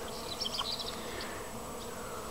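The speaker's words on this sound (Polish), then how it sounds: "Pokazać, a właściwie nakręcić filmik, co robią pszczoły" Honey bees buzz around their hive on a wet, rainy day, a faint, steady hum with a few brief higher passes of individual bees flying close, heard alone with no voices.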